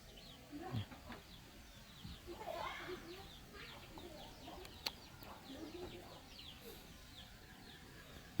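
Chickens clucking around a rural village coop, scattered soft clucks and calls at a moderate distance with a sharp knock near the middle and faint voices in the background.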